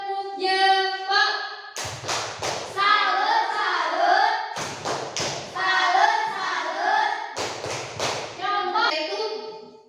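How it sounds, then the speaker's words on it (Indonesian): A school class performs the 'tepuk jempol' clapping routine, with children chanting together in rhythmic bursts punctuated by sharp group claps and thumps, repeated in three close rounds. "kalau senang kita beri tepuk jempol"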